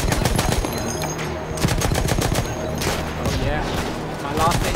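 Rapid rifle gunfire in the Battlefield 1 single-player campaign on PC, dense repeated shots continuing loudly throughout with battle noise behind.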